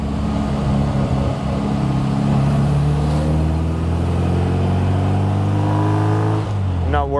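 A 1960 Bugeye Sprite decelerates in third gear, heard up close from inside the car. The engine drone falls steadily in pitch and stays loud throughout before dropping away at the end.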